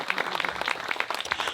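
Wedding guests clap together in an even, continuous round of applause at a reception. The claps are dense and moderately loud, with no talking over them.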